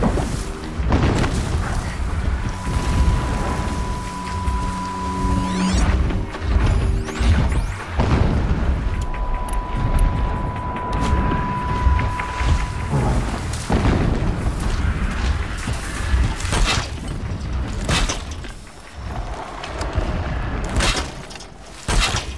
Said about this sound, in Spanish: Explosiones a lo lejos.